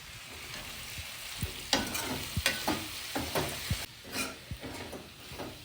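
Soft scraping and knocking of a spoon stirring chicken in a pot, a few irregular strokes over a low sizzle.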